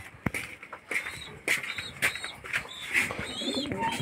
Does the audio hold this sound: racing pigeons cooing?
yes